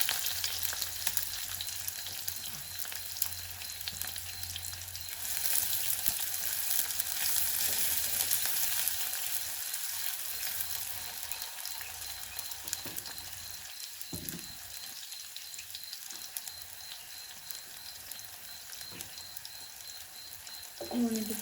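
Chopped onions fry in a pan for a cassava leaf sambol, giving a steady close hiss of sizzling oil with occasional soft stirring sounds, no talking.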